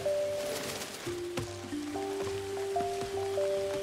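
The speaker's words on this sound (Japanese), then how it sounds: "雨降ってきた。" Rain falls in the jungle platformer Gibbon: Beyond the Trees, a steady soft hiss that continues throughout, heard alone beneath sustained musical tones from the game.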